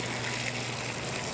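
Water gushes steadily from a garden valve on an outdoor water line, a continuous hissing rush that is fairly faint and carries no voices.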